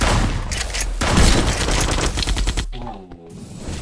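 Rapid bursts of gunfire from the online shooter ev.io fill the scene, loud dense volleys trailing into a brief pause and then a few sharper shots near the end.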